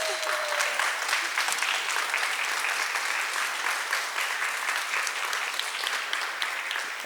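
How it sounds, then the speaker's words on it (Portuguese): An audience at a food film festival cooking show gives a sustained, even round of applause, moderately loud and continuous throughout. "Uma salva de palmas para ela, né?"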